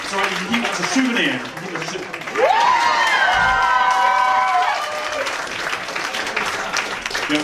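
Loud applause, cheers and whoops from the audience at a comedy show at The Rivoli, with a long rising vocal shout over the crowd in the middle and clapping continuing throughout.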